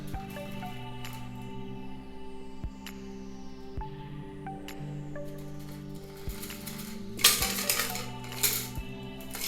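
Metal cocktail strainer clinking against a shaker and glass while a whiskey sour is strained, a run of light metallic taps and scrapes over a steady background hum, with a brighter rattling burst near the end.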